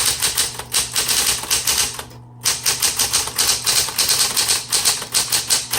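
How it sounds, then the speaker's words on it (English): A 1970s Smith Corona Coronet Electric 12 typewriter typing steadily, with loud, close, rapid keystrikes and the motor's hum, a brief pause near the middle, no voices. "This is also one of the typewriters that I recommend for beginners."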